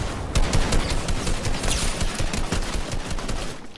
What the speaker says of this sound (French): Derrière, il y a encore un qui me tire dessus.